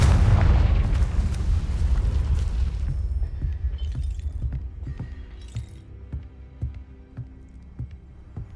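A Confringo blasting spell detonates in Hogwarts Legacy: a loud, close, booming explosion that rumbles and fades over a few seconds, followed by scattered crackling debris and small clattering impacts.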